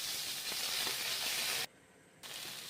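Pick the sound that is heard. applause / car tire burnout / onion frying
onion frying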